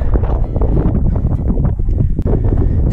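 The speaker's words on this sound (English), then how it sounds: "Starting to get pretty windy now." Loud wind buffets the microphone on Cul Mor mountain in the Scottish Highlands in a continuous roaring rumble, gusting unevenly with no voices.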